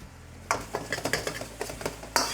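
Chicken frying in a tiny bit of oil in a pan for orange chicken, a soft sizzle with rhythmic utensil scrapes and clinks against the pan, close, no talking.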